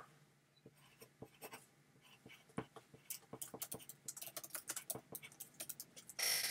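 A pen scratches across paper to jot a note, quick taps and strokes building into a busy, close patter of writing that grows denser toward the end.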